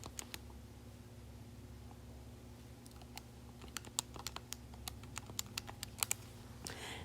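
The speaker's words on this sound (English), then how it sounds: "Sorry, typing it into my calculator." Numbers being typed into a calculator: a run of sharp, light key clicks in quick irregular bursts over a low steady room hum, close and quiet.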